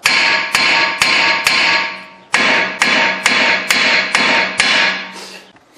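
A hammer beats on a seized brake rotor of a Lexus/Toyota: a steady run of hard metallic blows, about two per second, with a short break partway through, loud and close with no talk.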